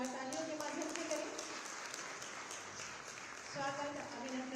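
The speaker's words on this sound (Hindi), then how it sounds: "आपका स्वागत अभिनंदन जोरदार तालियों के माध्यम से करें" Applause from an audience at a Uttar Pradesh Day award ceremony welcomes the Chief Minister, a steady clapping wash with a voice speaking over it at the start and end.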